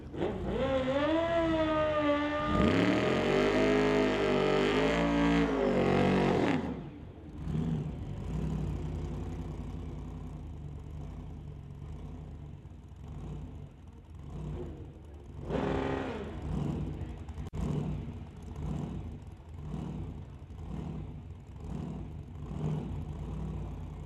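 A drag racing car roars through a burnout at a door-car drag event, its engine screaming loud and high with rising revs before cutting off, followed by lower idling rumble and a brief second surge.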